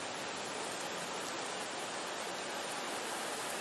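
Rain ambience layered into a beat: a soft, constant hiss of falling rain with no clear rhythm, faint and uniform throughout.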